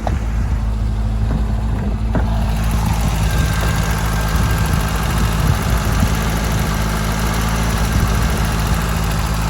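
Cold Renault 5 GT Turbo engine idling with the choke on: a loud, steady low rumble with a fast idle throb, close up and continuous throughout.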